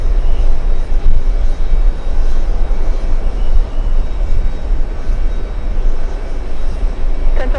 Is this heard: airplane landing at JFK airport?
yes